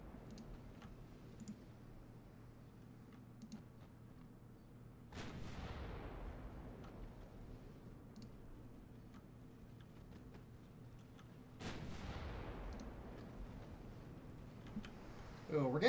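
Naval battery gunfire in Ultimate Admiral: Dreadnoughts, a Russian heavy cruiser fleet of 1890 battling an enemy battleship, with two deep booming salvos that rumble and fade, over quiet mouse clicks and occasional talking.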